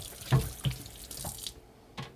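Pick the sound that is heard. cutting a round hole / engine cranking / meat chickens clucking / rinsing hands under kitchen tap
rinsing hands under kitchen tap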